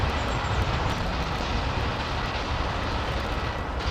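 Three Virgin Atlantic Boeing Dreamliner jets departing runway 09 right at London Heathrow fill the air with a steady, broad engine roar, loud and continuous without a break.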